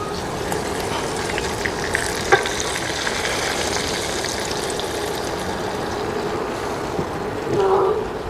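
Hot water poured into a sizzling kazan of meat seasoned with pepper, coriander and salt, giving a steady frying hiss and bubbling with a few faint clinks, close and continuous throughout.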